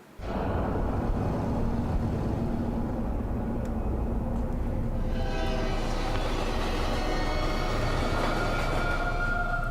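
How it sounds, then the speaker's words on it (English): A runaway train in a horror video game trailer roars as a loud, continuous rumbling rush, with metallic tones building and clattering layers thickening midway through, and no voices. "Runaway train, okay."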